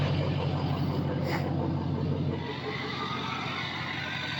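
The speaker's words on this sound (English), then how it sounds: "That exhaust is not choppy at all." A diesel truck engine runs steadily, its exhaust giving a smooth, even rumble with no choppiness, close and continuous throughout.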